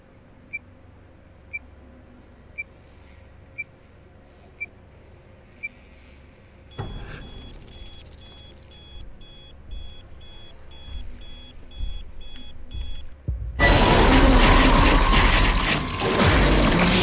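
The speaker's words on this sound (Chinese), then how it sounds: "我想说闹钟那么大声，从他旁边走过去应该不会有事吧？" An alarm clock in the horror video game The Inn-Sanity starts with faint periodic ticks, then breaks into loud, rapid, pulsing bell rings that swell into a dense, continuous, harsh clanging at the end.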